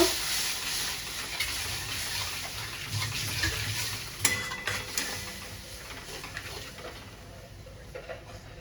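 A spice paste of chicken masala, Kashmiri chilli, turmeric and a little water is sautéed in a pan for home-style Bengali chicken kosha. A soft, steady sizzle runs under occasional spatula scrapes and a sharper clink or two.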